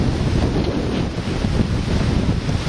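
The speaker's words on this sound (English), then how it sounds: "You can hear the wind." Strong wind roars over a lake in early summer, with constant buffeting against the microphone and a broad wash of waves, loud and unbroken.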